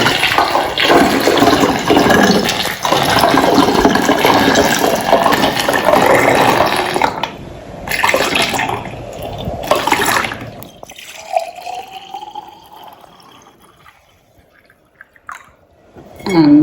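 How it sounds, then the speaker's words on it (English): Mango rosemary vinegar pours through a collapsible silicone funnel in a loud, steady gush that breaks into splashes, then thins to scattered drips and trickles before a final short splash. "a collapsible silicone funnel that I'm going to use, and hopefully nothing will spill"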